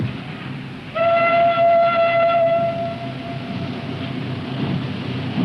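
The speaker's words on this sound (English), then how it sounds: "Faintly, from a distance, there comes the sound of a departing train." A departing train sounds a drawn-out horn that rings for about two seconds and then fades, set over a low rumbling background.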